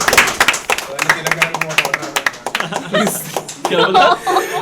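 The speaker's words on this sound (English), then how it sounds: "Huge round of applause for Santa Claus again, guys." Scattered hand claps and chuckles from a small group greet Santa Claus at a Christmas gathering, with brief speech and laughter mixed in.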